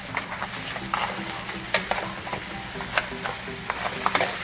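A spoon stirs crab and shrimp simmering in coconut milk in a pan, giving scraping clicks and clatters over a steady bubbling sizzle, close and fairly loud, with no talking.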